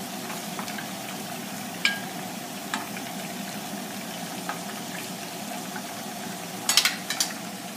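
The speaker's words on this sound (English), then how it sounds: "We finished frying our nuggets" Steady, soft sizzle of chicken nuggets frying in oil, with a few brief clinks and scrapes toward the end.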